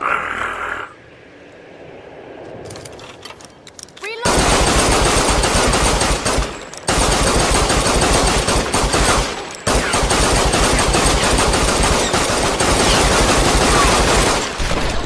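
Unbroken automatic gunfire in the game Tomb Raider, fired through a modded PS4 controller, hammers loud and close in long continuous bursts. After a quieter opening, two brief gaps split the bursts.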